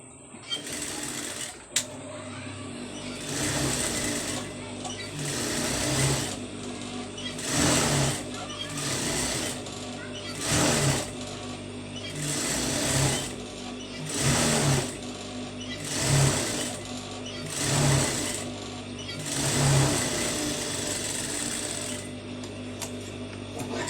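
A sewing machine stitches down a folded piping strip, running close and loud in repeated short bursts of rapid mechanical chatter with a continuous motor hum underneath.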